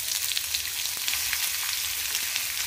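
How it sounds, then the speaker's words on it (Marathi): Chopped onion sizzling in a little hot oil for a crab masala paste, a steady crackling hiss with faint scattered pops, fairly quiet and close, with no voices. "आता हा कांदा गेला ह्याच्यामध्ये."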